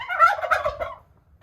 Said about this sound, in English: Oh, my turkeys.